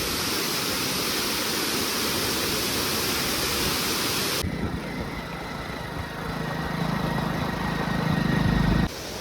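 Ghonsari waterfall in Kankavli, swollen by monsoon rain, roars as a steady loud broadband rush, shifting to a deeper, lower rumble partway through as if heard from a different spot.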